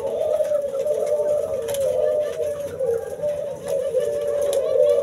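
Zebra doves (perkutut) in a small breeding cage coo in a steady, warbling, repeated phrase, close and clear, with a faint busy background behind them.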